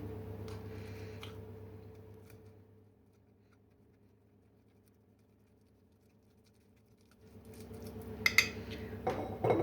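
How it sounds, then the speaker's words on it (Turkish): A fork mashes avocado and cheese into a breakfast spread. Faint, soft squishing and scraping sounds come at the start and again toward the end, with a near-silent pause between them. "Bir çatal yardımıyla şöyle iyice eziyorum."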